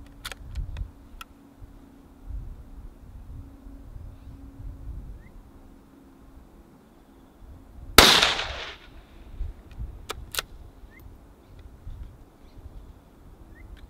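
A single sharp rifle shot from a Remington 591 firing 5mm rimfire rounds cracks out nearby, followed by a short decaying echo, with faint outdoor background and a few small clicks around it.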